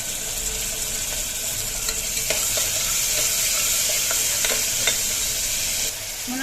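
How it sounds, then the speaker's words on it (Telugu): Onions and tomato pieces frying in oil in a pan, a dense, steady high sizzle held throughout with a few faint stirring clicks, close and fairly loud, no talking. "వేగుతున్నాయండి ఉల్లిపాయలు."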